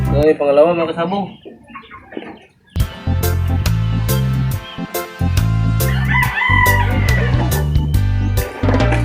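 Roosters crowing at a cockfighting gathering, several drawn-out crows rising over loud music and chatter, with voices talking throughout.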